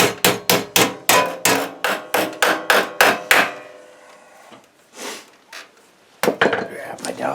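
A small hammer striking sheet metal on a woodstove oven top, about a dozen quick, sharp metallic blows in a steady rhythm, then a quiet pause, a few softer sounds and another short burst of hits.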